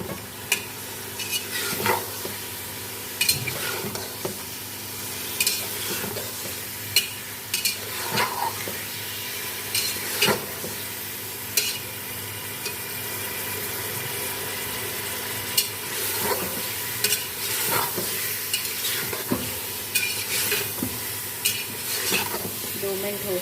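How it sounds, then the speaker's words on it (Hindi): Masoor dal and meat being stir-fried in a pan for dal gosht, a steady close sizzle broken by repeated scraping stirs of a utensil against the pan, with no voices. "आप देख सकते हैं 2 मिनट तक हम इसको ऐसे ही भूनेंगे।"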